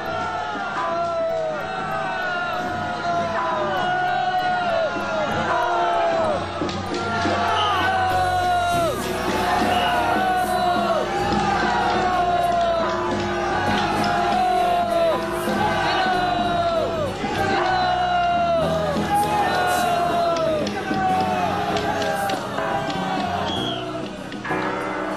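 Thousands of devotees cheering and shouting as the Baishatun Mazu palanquin enters Chaotian Temple in 1970s Taiwan, a loud continuous crowd roar with repeated rising yells and whoops.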